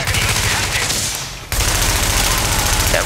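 Sustained automatic gunfire rattles in Tom Clancy's The Division, loud and close, broken by a brief pause midway before the rapid shots resume.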